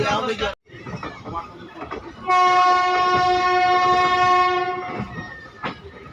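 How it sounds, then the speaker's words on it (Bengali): The Asansol to Malda train 13417 rumbles along with clattering wheels as it enters Andal Junction station, then a long, loud horn blasts for a few seconds before the rumbling continues. "আমাদের ট্রেন এখন প্রবেশ করছে অন্ডাল জংশন স্টেশনে"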